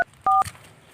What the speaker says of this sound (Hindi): उसके लिए फ़ोन करो अभी।